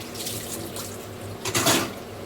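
Water pours from a tap into a sink during dishwashing, a steady nearby splashing that swells briefly louder toward the end.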